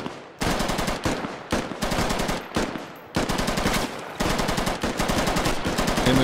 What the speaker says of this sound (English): And shots being taken now by Dorf.